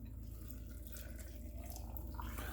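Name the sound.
brine being poured over pickles in a jar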